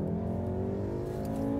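A 2015 Volkswagen Golf R's turbocharged engine drones steadily at constant revs, a thick low rumble heard close and continuous with no talking.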